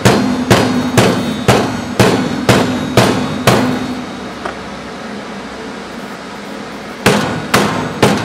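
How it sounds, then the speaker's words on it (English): A small rubber mallet taps a bar pin into a rubber bushing during a 2-inch Pro Comp lift install: about eight sharp, evenly spaced close blows, a pause, then three more quick taps. "Then I like to use my little rubber mallet"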